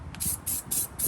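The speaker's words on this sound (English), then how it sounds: "hold it down and spray. You gotta keep it moving." Aerosol spray can spraying paint in short, repeated hissing bursts, several quick on-off sprays in a steady rhythm, close and fairly loud, with the can kept moving while working on a new Duramax truck.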